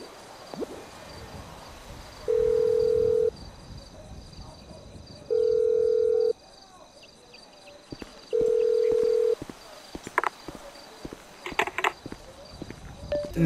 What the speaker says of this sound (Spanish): es como un tono de que te coge el teléfono y te lo cuelga